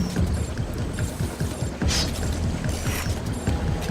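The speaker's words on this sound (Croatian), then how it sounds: "Evo, gasim pumpu." A water pump in the video game Splinter Cell Blacklist churns with a loud, steady mechanical throb and a brief hiss partway through.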